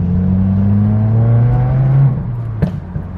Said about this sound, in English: it like pops in between shifts. If you do like a little aggressive pull and you shift, it just backfires